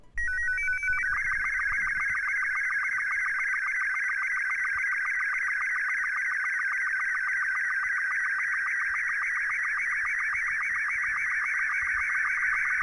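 An SSTV transmission plays for MMSSTV decoding: a few short tone chirps, then a continuous warbling high-pitched data signal that runs steadily and loudly through the rest of the clip, with no speech.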